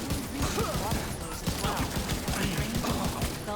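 Turrets firing in a video game: a dense, rapid stream of mechanical gunfire shots, steady and continuous, with a voice talking faintly underneath.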